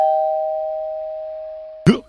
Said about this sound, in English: A doorbell goes ding dong